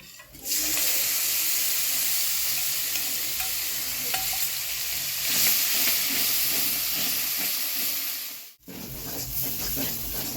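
Spice masala with five-spice seeds, cardamom, cloves and cinnamon frying and being stirred in a pan for mung dal, a steady close sizzle with scraping stirs, briefly cutting out near the end before resuming.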